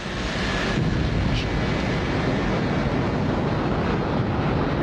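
Lockheed SR-71 Blackbird jet taking off with nearly dry fuel tanks, a steady, powerful engine roar filling the whole clip, loud and continuous with deep rumble and no voices.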